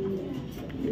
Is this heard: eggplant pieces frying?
no